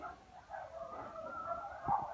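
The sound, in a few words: dog barking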